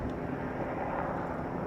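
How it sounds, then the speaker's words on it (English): Aircraft rumble from helicopters hovering over St. Paul, Minnesota on an overcast day, a steady broad drone heard from a distance with no talk. "Helicopters are hovering above me for some reason."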